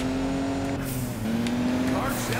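Steady, close engine drone from a Mazda Miata racing in Juiced 2, rising slowly in pitch with a short dip midway, accompanied by light tyre noise and a voice speaking over the top.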